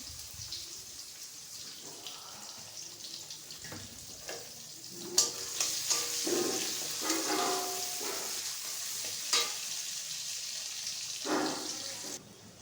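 Onion dropped into hot oil in a home kitchen pan, a steady sizzle rising after a few seconds with bursts of spattering and occasional spoon stirs, close and without voices.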